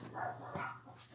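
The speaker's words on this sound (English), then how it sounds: "Are you just barking out the window?" A dog barks out a window indoors, a short pair of muffled woofs at moderate distance.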